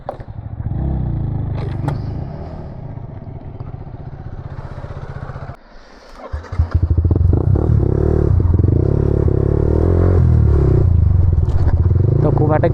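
A motorcycle engine runs on a Sunday ride. Its low rumble dips briefly midway, then returns louder and steady, with someone talking over it.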